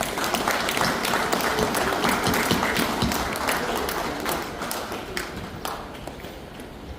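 A crowd claps for a master at a Korean martial arts breaking association gathering, with brisk, crisp hand claps ringing out together before gradually thinning and fading toward the end.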